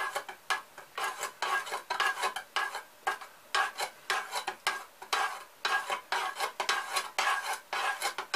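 A utensil scrapes and clinks around a pot in steady, repeated strokes, stirring salt into a marinade for zucchini, close and fairly loud, with no talking.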